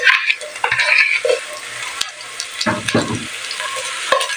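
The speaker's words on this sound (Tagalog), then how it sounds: "Halu-haluin lang po habang kumula ang sibuyas ang ating bawang." Garlic and onion sauté in hot oil while being stirred: a continuous close sizzle with scattered scrapes and clinks of the utensil against the pan.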